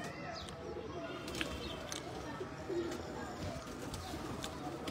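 Breeder pigeons in a loft coo softly, with low burbling calls and faint chirps over a quiet background of murmuring activity.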